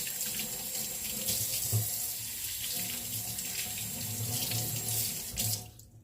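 A kitchen tap runs steadily into the sink during washing up, a constant close hiss and splatter that holds for several seconds before cutting off abruptly near the end, no speech.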